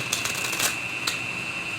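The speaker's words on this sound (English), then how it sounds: "it's shuffling time" Cards from a 2-deck blackjack shoe are shuffled at close range, a few quick riffling bursts of crisp paper flutter lasting under two seconds.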